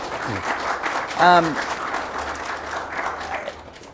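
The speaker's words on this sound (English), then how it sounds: "A round of applause from them both, please, ladies and gentlemen" Audience applause at a graduate exhibition event, soft steady clapping from a small crowd heard under a speaking voice, fairly distant and even throughout.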